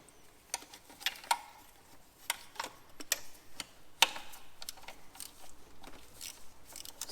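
A 17mm fuel line socket works on the injector fuel lines of a Mercedes A-Class W176, giving sparse sharp metallic ticks and clicks, close but quiet, with faint shuffling between them.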